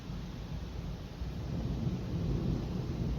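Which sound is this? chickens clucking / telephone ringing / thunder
thunder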